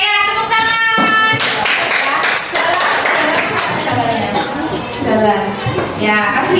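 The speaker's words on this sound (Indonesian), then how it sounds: "Oke ya, tepuk tangan." Schoolchildren clap their hands together in a classroom at an elementary school, a loud, continuous patter of claps alongside lively children's voices and talk throughout.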